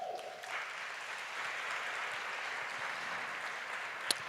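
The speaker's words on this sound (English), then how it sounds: "Let us clap for them." Faint, steady applause from an audience at an awards ceremony, a soft continuous wash of clapping heard at a distance with no voices.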